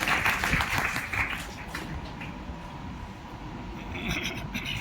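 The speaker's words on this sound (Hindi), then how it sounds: "एक बार जोरदार तालियों से सर का स्वागत करें।" Audience applause welcoming a speaker at a World Environment Day event at a Raman science centre, with broadband clapping that is strongest at the start, fades a little, then swells again toward the end.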